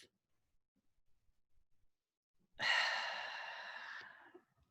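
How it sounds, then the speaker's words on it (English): One long, deep breath taken during a guided havening relaxation session: quiet at first, then a close, breathy rush that swells and slowly tapers off, heard alone with no talking. "And one more deep breath."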